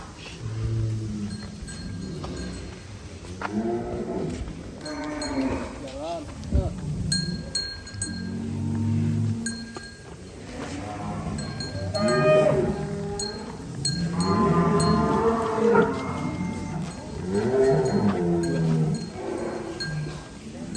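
Deep moos from one-ton cattle rise and fall repeatedly over a busy barn background at a cattle farm, with people talking nearby and occasional metallic clinks.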